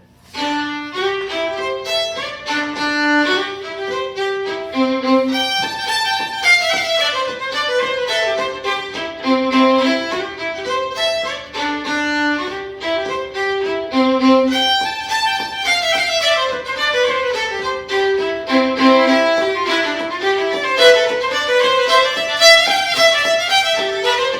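A lively Scottish fiddle tune, Janet Drinks No Water, plays solo, bowed notes moving quickly in a bright, bouncing reel rhythm that carries on steadily throughout.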